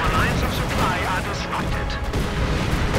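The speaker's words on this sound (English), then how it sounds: "And artillery going in." Artillery shells land in a Company of Heroes 2 2v2 match, a dense continuous rumble of booms and gunfire with a commentator's voice talking over the battle throughout.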